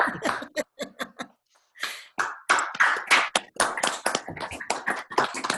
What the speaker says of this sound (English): Everybody unmute and clap for Jeff, please.